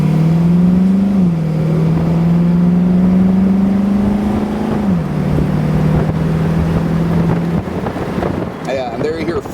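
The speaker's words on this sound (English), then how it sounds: "Yeah, and there you hear 4 shift." A 1930s Ford V8 hot rod with a four-speed overdrive transmission pulls loudly from inside the car, its engine note rising and dropping through two gear changes before easing off, with wind noise throughout.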